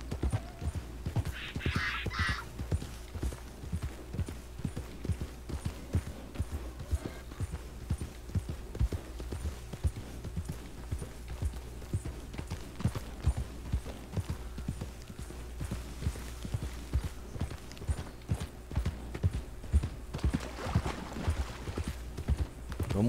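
Horse hooves clip-clop steadily in Red Dead Redemption 2 as a rider travels through horse-taming country, a continuous rhythmic trot with a brief whinny-like sound near the start over a low ambient hum.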